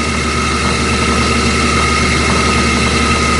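An oil centrifuge motor spinning used oil, a loud, steady engine-like drone with constant hum and no pauses, alone without speech.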